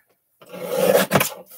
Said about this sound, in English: So here I'm using my trimmer, and I'm just going to take this full sheet and I'm going to cut it down right in the middle